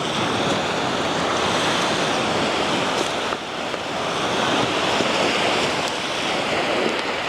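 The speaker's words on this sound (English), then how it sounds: "So the surf is very calm today." Calm surf washes steadily onto a beach between Paraparaumu and Waikanae, a continuous close wash of gentle waves mixed with breezy wind noise, no voices present.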